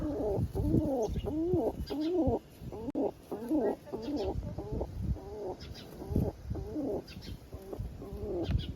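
Pigeons cooing close by in repeated soft, throaty rolling calls, several overlapping in a steady rhythm, with faint background noise.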